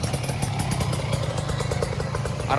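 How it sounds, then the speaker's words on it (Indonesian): A Yamaha 125 two-stroke motorcycle engine idles close by with a rapid, steady, clattering pulse that stays even throughout. "Kita kedatangan lagi nih satu motor Yamaha 125 set."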